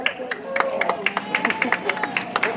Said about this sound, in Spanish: ¡Que se escuche bien el aplauso!